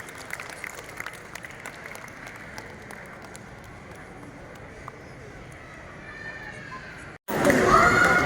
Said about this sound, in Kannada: ಜೋರಾಗಿ ಚಪ್ಪಾಳೆ ಬಿಡಿ.